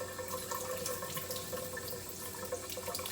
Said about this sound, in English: I'm going to wash the meat